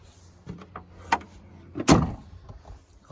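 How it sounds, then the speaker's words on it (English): A 1996 Chevrolet K2500 Suburban with a Cummins 12-valve engine has a door swung shut. A few light latch clicks lead up to one solid, close thud, followed by quiet handling noise. "This door shut."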